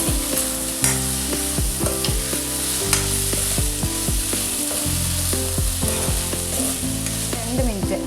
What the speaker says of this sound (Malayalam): അതേപോലെ കുറച്ച് തേങ്ങ ഒന്ന് ഇളക്കി കൊടുക്കാം.